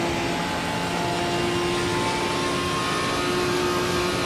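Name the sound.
GT4 race car engine redlining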